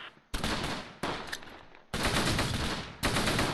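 Sustained gunfire in the WWII tactics game Close Combat, set around Mue near Caen: four dense bursts of rapid shots, the first starting about a third of a second in, each lasting about a second with short gaps between, loud and close.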